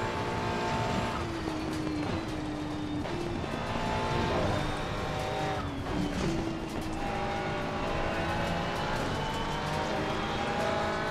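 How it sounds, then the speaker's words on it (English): A race car engine in Assetto Corsa Competizione on the Nordschleife roars and revs continuously, its exhaust note rising and falling as gears shift, steady and loud throughout. "You can tell when the car's bouncing around just by the exhaust."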